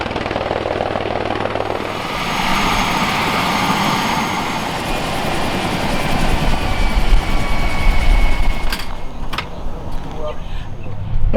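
An Air Life 1 medical helicopter arrives at a fire academy landing zone, its loud rotor thump and turbine whine building steadily and close, with voices talking over the noise.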